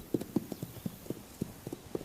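Hooves of wild horses on the Pryor Mountain Wild Horse Range along the Montana-Wyoming border clip-clop in an uneven series of distinct thuds, close and clear with no talk.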